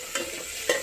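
Besan (gram flour) being cooked and stirred in a pan at home, a soft steady sizzle with two brief scraping strokes of the spoon, close and without talk.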